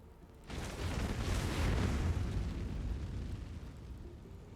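Fire spell explosions in Baldur's Gate 3, a deep roaring boom that swells after a brief quiet start, then rumbles and fades slowly over several seconds.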